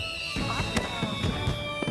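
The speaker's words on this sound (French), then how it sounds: "le bruit des explosions peut les effrayer" Fireworks bang and crackle in quick succession, several sharp bursts over a continuous tonal whine, fairly loud and close.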